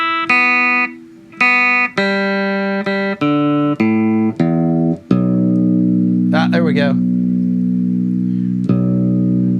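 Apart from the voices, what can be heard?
Ibanez seven-string guitar played while being tuned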